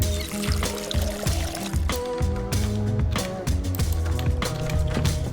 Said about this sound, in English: let's water this real quick